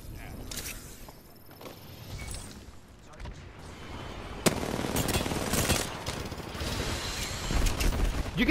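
Video game gunfire: scattered shots and short bursts, with a sharp loud report midway and heavier firing toward the end, mixed with mechanical clatter and voices talking over it.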